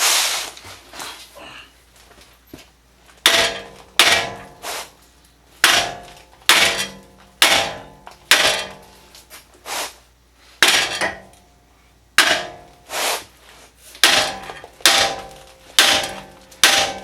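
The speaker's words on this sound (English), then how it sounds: "hit it with the hammer" Repeated hard metallic hammer blows on a 2005 Volvo XC90 ball joint, about a dozen sharp clanging strikes at a steady, unhurried pace, close and loud with quiet gaps between.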